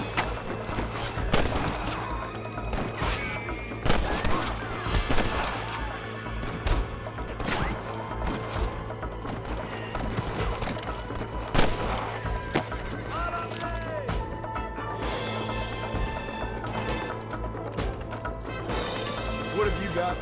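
Gunfire cracks out in a Western action game amid galloping hooves and whinnying horses, sharp scattered shots spread across a busy chase while voices shout over the din.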